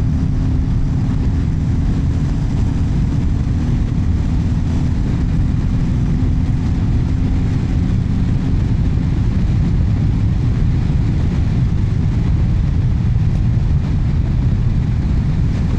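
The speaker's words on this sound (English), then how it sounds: "see what the engine sounds like as well" A loud, steady engine rumble with heavy wind noise runs throughout, from a Royal Enfield Classic 350 motorcycle ridden at speed up a glen, with no talking.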